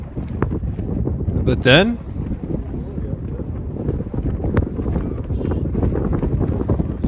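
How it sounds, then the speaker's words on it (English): Wind gusting across an outdoor golf course at Metamora Fields in Illinois, a steady low rumble buffeting the microphone throughout, with someone speaking briefly over it. "the wind really kicked up during that stroke"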